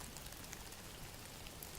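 Steady rain falls in a soft, even hiss with scattered faint drops, quiet and unbroken throughout.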